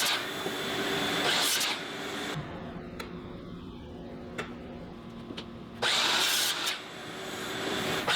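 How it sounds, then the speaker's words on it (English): A power saw trims the ends off wooden lumber rack arms: a loud whining cut, then a quieter stretch with a few sharp clicks and handling noises, then a second loud cutting burst. "Trimming the ends off all these arms."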